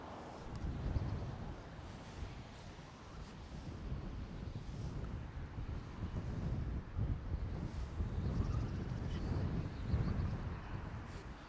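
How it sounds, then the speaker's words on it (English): Strong wind blowing across a Scottish sea loch during a fishing session, a steady, loud rushing roar buffeting the microphone with gusty low rumble throughout. "I was not expecting this wind."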